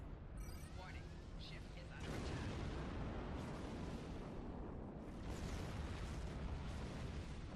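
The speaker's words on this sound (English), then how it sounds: "Here we take a shortened version to where you blow the hole into the side of the ship" An explosion blows a hole in the side of a ship in a space combat video game, a dense, rumbling blast that carries on as a sustained roar with fresh bursts partway through, over a continuous noisy background.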